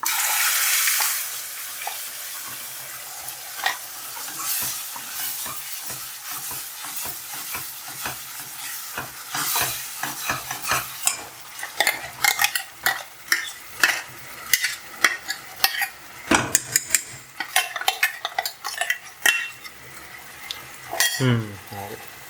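Ground masala paste goes into a hot pan with turmeric for bhindi masala, sizzling softly while a spoon scrapes and clatters repeatedly against the pan in uneven bursts, close and clear.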